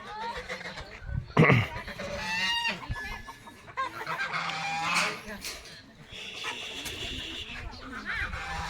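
Darag native chickens on a free-range farm in Palayan City, Nueva Ecija cluck and call at close range in a busy, uneven chorus with a few louder squawks.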